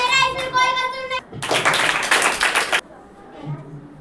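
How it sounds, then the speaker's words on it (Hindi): Loud applause from a school play audience, a dense burst of clapping lasting over a second, set between stretches of children's voices speaking and chanting. "जोरदार ताली बजाते रहिए।"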